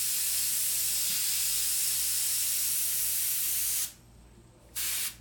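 An airbrush sprays paint onto a t-shirt for lion markings, a steady loud hiss that runs continuously, cuts out briefly, then resumes near the end.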